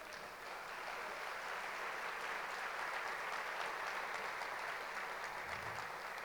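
A church congregation applauds in a dense, sustained wash of clapping heard from a distance, even and fairly quiet throughout.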